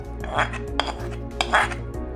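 Metal utensils clink and scrape against a cooking pot as cooked tamarind is stirred into rice for temple-style pulihora, a few sharp clinks over a low steady background hum.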